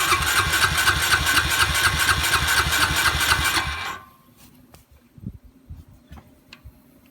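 A Honda Rancher 350 ATV engine, under repair for a leaky carburetor, runs loud and close with a steady rapid putter for several seconds, then cuts off, leaving quiet clicks and faint background noise.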